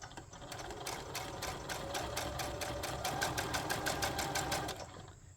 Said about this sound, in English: we are just going to sew as close to the top as we can